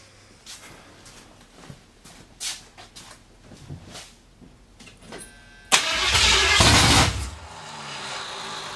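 A 1982 Ford F-350 truck engine cranks with several short bursts, then catches at once and roars loud and steady close by before settling slightly.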